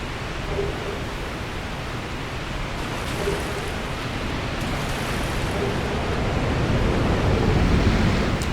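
A steady, broad rushing roar of a waterfall in the Darkroot Basin area of the video game Dark Souls, continuous and even, gradually growing slightly louder, with no voices.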